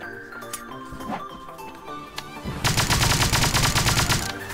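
Pixel Gun video game gunfire: a few scattered shots early, then a dense rapid burst of automatic fire in the second half, loud and close over background game sounds.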